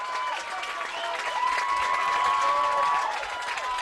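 Partisan crowd at Wildcat Field cheers and applauds a run scoring on a sacrifice fly in a Valencia vs West Ranch high school baseball game, a sustained mid-distance roar with whistles rising through the middle.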